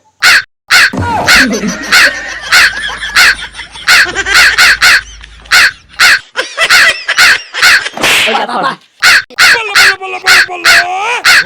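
A man imitates a crow with repeated harsh caws in quick bursts, loud and close, with a few short pauses between calls and talking mixed in near the end.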